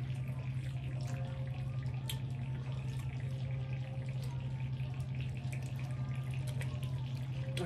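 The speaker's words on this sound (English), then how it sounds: "My drink's still bubbling over here." A carbonated drink fizzes and bubbles steadily at close range during a seafood boil meal, a continuous soft hiss lasting throughout with no talk over it.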